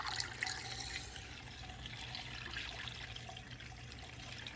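A 50-50 coolant mix is poured through a funnel into a BMW E39 M5, a faint, steady trickle and gurgle of liquid running continuously with nobody talking.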